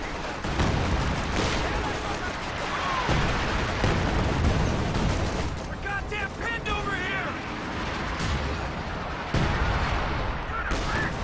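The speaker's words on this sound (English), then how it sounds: "In comes another priest barrage." Priest self-propelled artillery barrage in Company of Heroes 2, a steady stream of booming shell impacts and gunfire rumbling through the battlefield mix, with a commentator talking over much of it.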